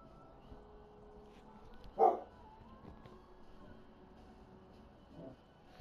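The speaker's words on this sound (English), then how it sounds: "My dog is just starting to bark if you can hear it in the background." A pet dog barks once in the background of a home during Minecraft gameplay, a short, moderately loud burst with a fainter second yap a few seconds later, under quiet room noise.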